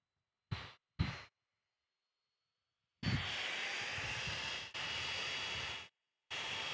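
A United Airlines Boeing 737-800 jet starts its takeoff roll at San Diego airport, a broad engine roar heard in short bursts and longer stretches broken by abrupt silent gaps.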